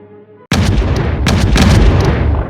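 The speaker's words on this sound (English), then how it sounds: "German artillery batteries open up to soften up the defenders" German artillery batteries firing during the invasion of the Netherlands in a wartime newsreel: a sudden loud boom after a brief quiet tone, followed by further heavy blasts and a rolling rumble that fills the rest of the moment.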